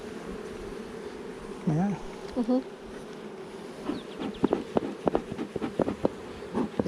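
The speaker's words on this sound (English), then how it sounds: "there's just too many bees" Bees buzzing around an open hive during a hive inspection, a steady low hum under the scene, with brief talk and some handling noises near the end.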